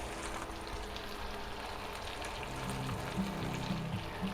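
A quarter stick of butter melts in a hot pan, giving a soft, steady, quiet sizzle throughout, with a low hum beneath and no talking.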